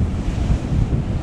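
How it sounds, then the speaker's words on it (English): Ocean swell surging and breaking at a rocky shore while fishing for barjack, a steady loud wash of surf mixed with heavy wind buffeting the microphone. "Look, the big swell is coming right."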